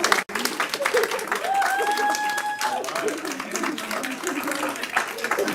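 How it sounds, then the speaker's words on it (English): Audience applause fills a city council meeting hall in Columbia, Tennessee, steady and sustained after an oath, with a few voices and a whistle-like tone rising briefly through the clapping. "Let's give them a round of applause"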